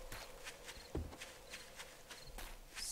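Footsteps in the survival game 7 Days to Die, a quiet, steady run of soft rhythmic steps with one heavier thud, faint and close.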